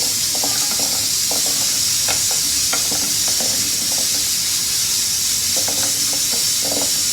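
Sliced zucchini sizzles steadily in olive oil over low heat, a constant frying hiss broken by scattered clicks and scrapes of stirring; no voices.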